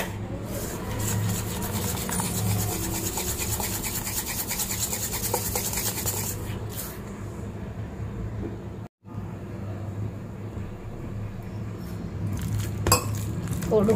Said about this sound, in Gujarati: હવે ડુંગળીમાં મિક્સ કરી લઉં